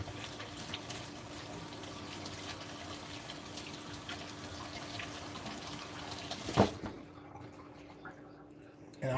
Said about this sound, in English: Wash these jalapenos